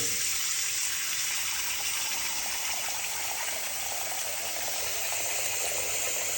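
Steady rush of water pouring from a faucet into a stoppered sink basin, a constant hissing flow that holds evenly throughout without any voices.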